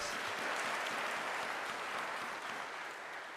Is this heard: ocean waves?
no